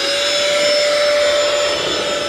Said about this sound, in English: get yourself a vacuum.